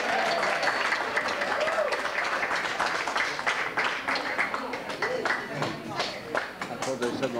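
Wedding reception guests break into lively applause, a crowd of hands clapping steadily and close, with some chatter mixed underneath.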